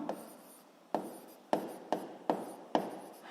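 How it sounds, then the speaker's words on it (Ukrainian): Writing out a physics law by hand with a pen, about six distinct scratchy strokes with brief rubbing between them, close and quiet, with no voices. "Записуємо закон."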